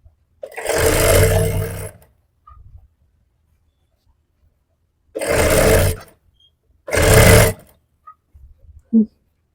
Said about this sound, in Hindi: अब हम सिलाई लगाएंगे